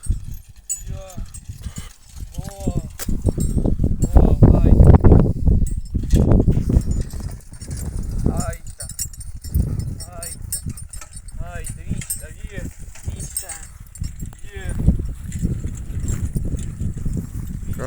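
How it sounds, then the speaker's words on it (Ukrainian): A mare's hooves clip-clop in an uneven rhythm on a farm, close and fairly loud, with some jangling mixed in and a person talking over much of it. "Така наша кобилка, квіточка."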